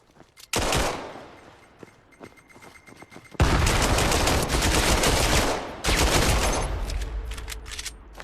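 Rapid pistol gunfire from a Glock in a one-on-one pistols-only video game match on the Khidi map, with loud dense bursts of shots, a pause, then sustained close volleys.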